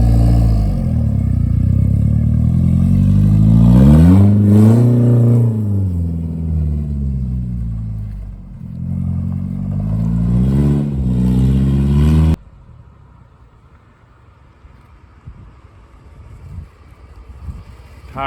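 A Nissan S13 240 on a test drive revs loudly and close, the engine pitch climbing and falling through gears with wind buffeting, then cuts to a much quieter low rumble and road noise.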